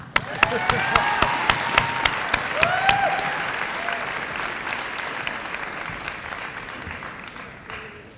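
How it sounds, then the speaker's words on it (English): An audience at a school awards ceremony keeps clapping for a student award winner, a steady wash of applause with a few sharp, distinct claps near the front and faint voices mixed in, tapering off at the end. "give her an extra clap"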